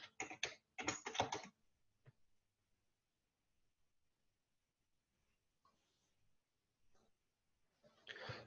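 Bursts of typing on a computer keyboard while entering a web-browsing firewall policy, two quick clusters of keystrokes at the start, a few isolated taps, then another short burst at the end, close and fairly quiet with long gaps between.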